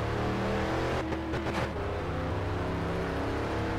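Game car engine in My Summer Car, a modded Dodge Charger R/T or Dustman GT drag-racing with supercharger, holds a steady loud drone that surges briefly in a quick rev around the middle, with no talking.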